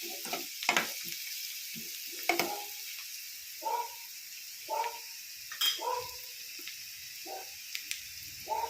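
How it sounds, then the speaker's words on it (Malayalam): Curry leaves are tossed into hot oil with chilli powder and give short crackling bursts of sizzle, several separate spurts over a few seconds with quiet gaps between them and no talk. "കരിവേപ്പില ഇട്ട് കൊടുക്കാം."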